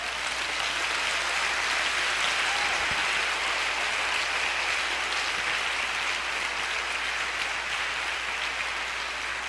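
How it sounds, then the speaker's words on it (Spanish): Steady applause from a large audience, a dense wash of clapping that holds evenly from start to finish. "dale un aplauso si se lo vas a dar."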